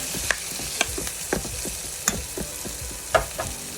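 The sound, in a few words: stirring kangkong adobo sizzling in the pan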